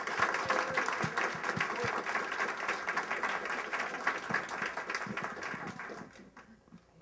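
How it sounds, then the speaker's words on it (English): Round of applause from a seated audience at an event thanking its guests, a sustained patter of many hands clapping at moderate distance that thins and fades out toward the end. "So I think they deserve a big round of applause."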